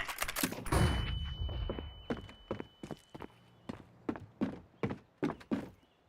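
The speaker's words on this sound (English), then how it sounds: "Throwing flashbang" A flashbang grenade goes off in CSGO as a loud, bright burst that rings for a moment, then a run of quick, evenly spaced footsteps and thuds carries on alone.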